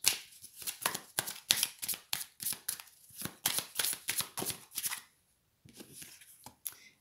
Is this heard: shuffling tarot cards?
yes